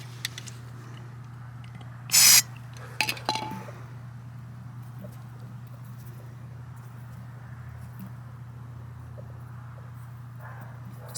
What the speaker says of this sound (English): so I'm just going to give it another spray in there